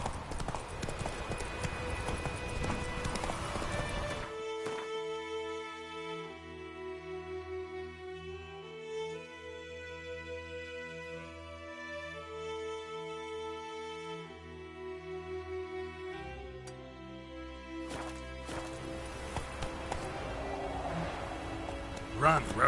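Hooves of a horse clip-clop steadily at a gallop in The Witcher 3, a rhythmic patter mixed under a sustained musical score with a brief voice near the end.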